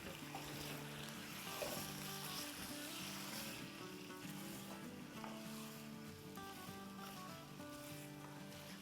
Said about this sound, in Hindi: बस इसे हम 2-3 मिनट भूनेंगे।